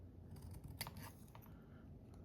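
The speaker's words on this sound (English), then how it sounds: "I don't know why I insist on using those big scissors to cut little stuff." Large scissors trim small paper scraps with a few quiet snips close by, soft and brief against a hushed room.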